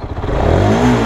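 QJ Motors SRK 180 motorcycle engine idling and revving up close, a steady loud motor drone climbing in pitch across one short burst, with no voices.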